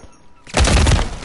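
Gunfire from a player's weapon in a shooter video game, a sudden loud burst of rapid shots starting after a brief quiet moment and carrying on close and dense to the end.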